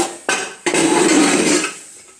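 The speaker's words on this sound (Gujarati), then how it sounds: "પણ હું કુકર કાઢું છું" Two sharp metallic clanks of a pressure cooker being pulled out, followed by a scraping, rattling clatter of cookware that fades away.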